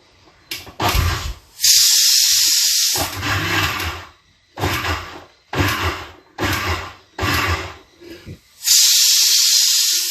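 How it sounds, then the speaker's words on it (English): A blender pulses hot food in short bursts, about six loud whirring runs separated by brief pauses, each start and stop sharp, with a hissing steam-like spray at the beginning and end. "So always blend in very small bursts."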